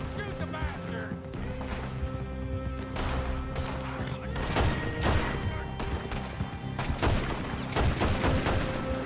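Rapid bursts of gunfire crackle through a Red Dead Redemption 2 shootout, dense volleys layered over a steady musical score, growing louder and busier in the second half, with shouted voices mixed in.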